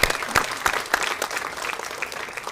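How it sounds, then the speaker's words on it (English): Audience applause at the Federal Duck Stamp art contest, a lively round of claps that is loud at first with sharp close hand claps, then thins slightly. "let's give everybody again a big round of applause for all the work that they've done"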